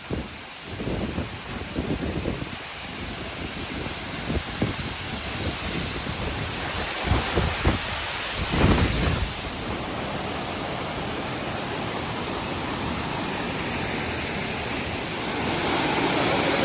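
Waterfall at Ng Tung Chai on Tai Mo Shan, a loud, dense and steady rush of falling water heard up close, with some brief rustling bumps early on and no speech.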